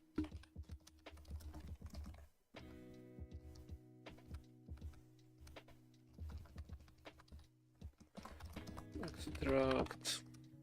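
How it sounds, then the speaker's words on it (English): Computer keyboard typing in close, irregular bursts of clicks with short pauses, a tonal hum running under the later part. "Wait, it's from typing."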